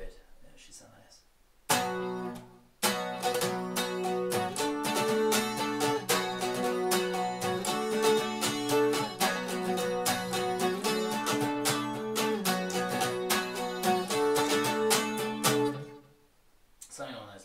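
Acoustic guitar plays a looped Celtic strumming pattern, steady and fluid, with dense rhythmic chords sustained for about fourteen seconds before stopping.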